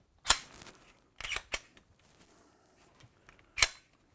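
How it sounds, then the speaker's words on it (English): Sharp metallic clicks and clacks come from a Glock pistol being reassembled with its slide after a .357 SIG drop-in barrel and recoil spring are fitted. Two or three distinct close snaps are separated by quiet gaps. "just reassemble the pistol with the slide"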